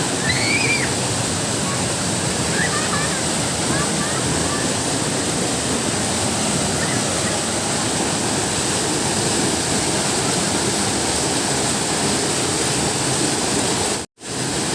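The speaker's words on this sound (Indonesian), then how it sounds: "salah satu air terjun di Kedung Pedut atau air terjun Merak" Kedung Merak waterfall at Kedung Pedut in Kulon Progo roars as a steady, close, broadband rush of falling water that fills the scene without a break, cutting out abruptly just before the end.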